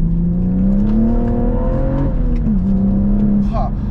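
BMW M135i with an N55 engine and manual gearbox pulling hard, engine note rising steadily through a gear and dipping briefly before climbing again, loud and close inside the cabin with someone talking over it.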